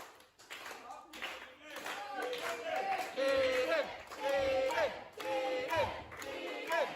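A wrestling crowd at a live match claps in loose, steady rhythm and cheers in swelling waves, with shouts rising over the noise. It sounds fairly close and lively throughout.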